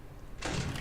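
A door in Minecraft slides or swings open with a sudden burst of rushing, hissing noise and a low rumble that starts partway through.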